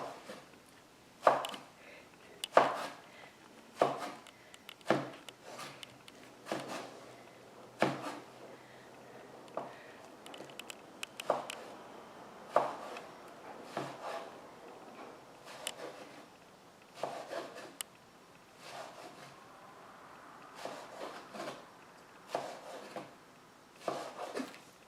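A knife cuts eggplant into strips on a board, each slice ending in a crisp knock, repeated at an uneven, steady pace, close and quiet with no talk.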